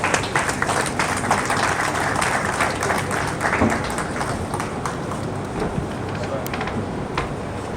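A crowd at a university environmental award ceremony gives steady, dense applause for an honoree coming to the stage, with a faint voice murmuring underneath throughout.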